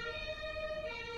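An emergency siren passes nearby on a street, giving a steady, sustained wail that stays moderately loud and unbroken for about a second.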